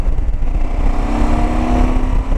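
A KTM 790 Adventure motorcycle's LC8c parallel-twin engine pulls steadily in fifth gear, a continuous droning hum with wind rush close to the rider, with no voices.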